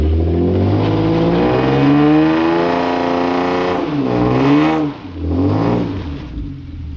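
A 370 hp Hyundai Genesis Coupe 3.8 in first gear at full throttle during a burnout attempt, the engine screaming loud and rising in pitch, briefly dropping, then climbing again.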